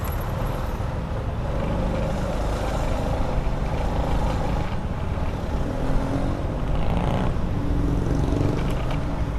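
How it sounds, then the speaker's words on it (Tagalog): Road traffic rumbles steadily around a motorcycle rider on a rainy day, with heavy vehicle engines and a constant wash of roadway noise, loud and unbroken. "Ay naku po, traffic."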